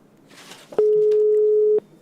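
A steady telephone tone holds at one pitch for about a second, loud and alone, during trouble connecting a phone line on a live call, with faint background noise before and after.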